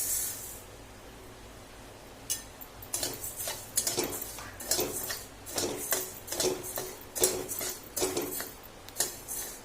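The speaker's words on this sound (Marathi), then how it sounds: "हे बघा तांदूळ भाजून घेऊ आपण आता." Rice dry-roasts in a pan, heard as uneven clinks, scrapes and rattles of a spatula against the metal, starting after a quiet moment and continuing in bursts.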